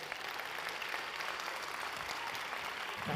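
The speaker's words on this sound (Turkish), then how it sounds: "Yüksek alkışlarınızla Şef Dan Barber geliyor." A conference audience claps for Chef Dan Barber at a gastronomy conference in a large hall. The applause is dense and continuous, with no speech over it.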